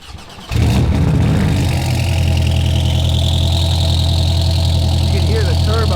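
A turbocharged Porsche 718 Cayman GT4 engine fires up after a brief quiet moment, then settles into a loud, steady idle with a rich low drone and faint whistling on top, with voices underneath.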